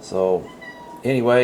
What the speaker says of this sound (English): I heard a little kitty cat down here somewhere.